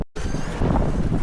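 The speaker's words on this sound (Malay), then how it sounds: "Oh, angin kuat guys, angin kuat." Strong wind buffets a microphone aboard a fishing raft on the water, a loud continuous roaring rumble that starts abruptly after a brief dropout and keeps up steadily.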